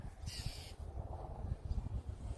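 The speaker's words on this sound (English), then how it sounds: "I love this bird." Crow cawing outdoors, one harsh bright call near the start over a busy low background rumble, fairly faint and alone with no talk.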